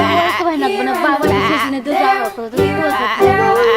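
Children's voices imitate sheep bleating during the Old MacDonald song at a village picnic, with loud wavering baa-like calls sung in chorus over a steady background.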